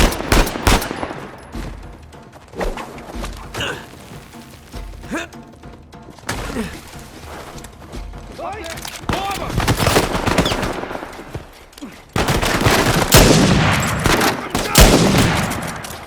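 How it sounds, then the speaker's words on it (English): Sniper fire and other gunfire ring out during a firefight in the video game Uncharted 4: sharp, loud cracks and rattling bursts at irregular intervals with heavy thuds, growing denser toward the end, with occasional voices. "Sam, sniper! Find cover!"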